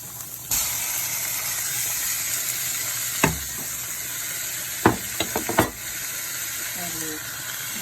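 Chicken dropped into a hot pan sets off a loud, steady sizzle and hiss that carries throughout, with a few sharp clatters and stirring knocks of a utensil against the pan.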